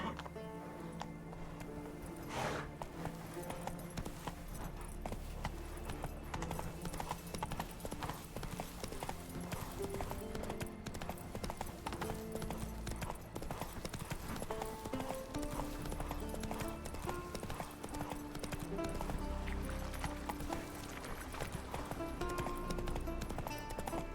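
Roach, a horse in The Witcher 3: Wild Hunt, gallops with steady, rapid clip-clop hoofbeats over a dense game backdrop of music and ambience, with an occasional whinny and faint talk beneath.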